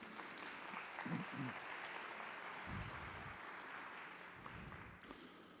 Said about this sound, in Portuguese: Vamos aplaudi-la, senhoras e senhores?